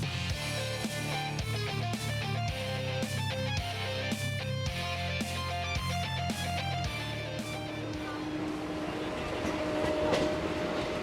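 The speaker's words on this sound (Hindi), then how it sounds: "ये एक राउंडवे रेलवे सर्किट है" A Kolkata Chakra Rail circular railway train rolls along with a rhythmic clatter of wheels over rail joints and a steady rumble, heard from on board at moderate level, with no speech.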